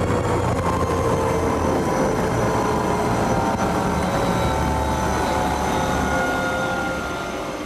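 Helicopter airlifting a young girl bitten by a snake to a hospital, a steady loud rotor and engine drone continuing throughout with no voices, easing off slightly at the very end.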